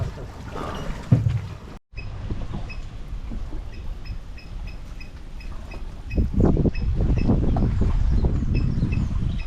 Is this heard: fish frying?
no